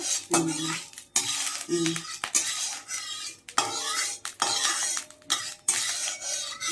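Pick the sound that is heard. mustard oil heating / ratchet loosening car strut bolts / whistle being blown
mustard oil heating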